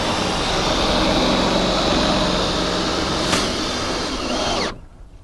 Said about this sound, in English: I like to use my screw gun with the appropriate size socket on it.